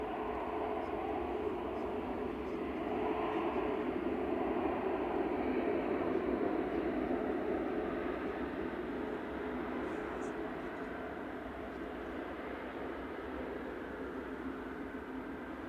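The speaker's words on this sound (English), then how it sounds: "Next arrival's Ryanair from Marrakesh with flight 3127. This is GRUKB operating this, a 9-year-old 737-800." A nine-year-old Ryanair Boeing 737-800 arriving at Manchester from Marrakesh makes a sustained engine drone that swells slightly midway and then eases off slowly, steady and fairly distant, with no voices.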